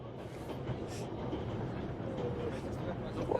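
A train rolls along the tracks with a steady, rumbling wagon noise and faint rhythmic clatter, held at moderate distance as a continuous background, with voices speaking over it.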